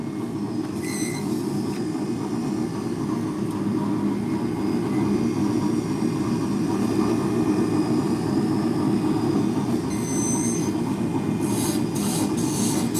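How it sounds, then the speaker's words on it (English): Wood lathe spinning hard maple spindle shafts in a workshop, a steady loud rumbling hum of the machine with occasional high-pitched squeals from tool contact on the wood. "I am turning shafts on a lathe right now."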